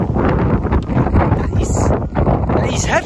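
Strong cold wind gusting at the harbor in Ushuaia, buffeting the microphone in loud, uneven roaring bursts with rustling in between.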